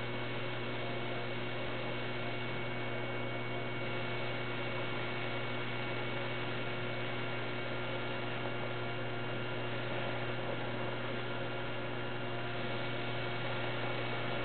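An HHO torch with an H2 Extreme .022 burning tip, turned up high, gives a continuous, even hissing roar with a low steady hum underneath, unchanging throughout and without any voices.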